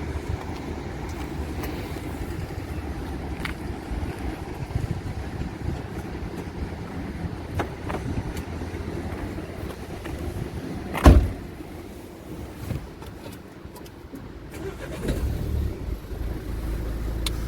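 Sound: 2014 Nissan Qashqai engine starting

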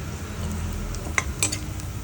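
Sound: onions and green chillies frying in oil

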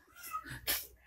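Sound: cat meowing

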